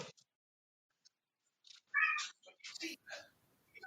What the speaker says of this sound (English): I'm going to have to feed my cats because they're just meowing their heads off